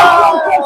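A roaring crowd cheers loudly at a boys' high school basketball game after a three-pointer, a brief burst of shouting voices.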